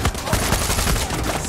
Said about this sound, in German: Wer schießt denn da die ganze Zeit?